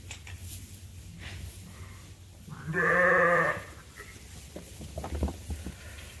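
Suffolk sheep and lambs on a farm, with one loud, clear bleat in the middle rising over a low background hum and faint farmyard noise.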